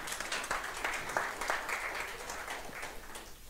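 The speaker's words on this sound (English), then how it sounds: "Can you clap for my wife?" A church congregation claps for the pastor's wife during a Sunday service, a quiet scattered patter of hands with some sharper individual claps, faint throughout.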